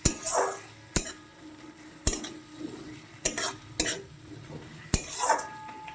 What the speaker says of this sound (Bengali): লঙ্কার গুঁড়ো হলুদ গুঁড়োটা ভাজা হয়ে যায়